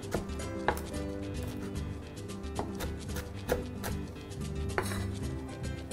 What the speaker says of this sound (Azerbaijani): Keşnişi bir araya bunları incə-incə doğruyuruq